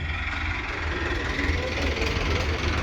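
A 4x4 tractor engine runs at a steady idle, a continuous low rumbling chug close by, with no talking.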